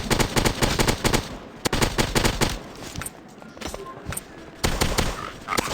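Rapid bursts of automatic gunfire in a modern gun shooting video game, loud and close, with repeated volleys separated by short pauses.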